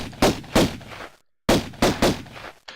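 Pistol shots in Tomb Raider 1: Unfinished Business, fired as close, loud, sharp bangs in quick pairs and triplets, with a brief silent gap between two bursts.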